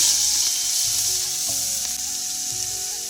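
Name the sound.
prawns frying in hot mustard oil in a wok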